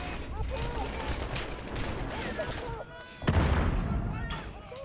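Grenade launcher fire in Call of Duty Modern Warfare, set in a dense battlefield of gunfire and booms, with a sharp, loud blast near the end over continuous combat noise and shouted voices.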